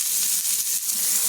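Fish frying in hot oil at a food stall, a bright, steady hissing sizzle heard close, loud and uninterrupted.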